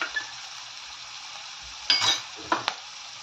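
Garlic sizzling steadily in hot oil with cumin, curry leaves, asafoetida and turmeric for a Marathi cabbage bhaji, and a few louder scraping stirs in the pan near the end.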